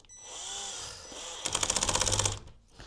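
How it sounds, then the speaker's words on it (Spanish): A power drill whirs into a wooden TV furniture panel during assembly, first a smooth motor whine, then a rapid rattling burst as the bit bites, close and moderately loud. "Yo tengo el taladro en el número 6 para que de esa manera no se vayan a barrer o tronar la madera."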